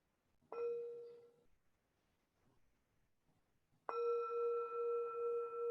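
A meditation bell struck twice at the close of a guided meditation, each strike a clear ringing tone that sustains and slowly fades, with quiet between the two.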